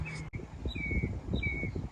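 Birds chirp outdoors on a morning at an RV resort, a few clear whistled calls in quick succession over a low rumble of background noise, fairly near.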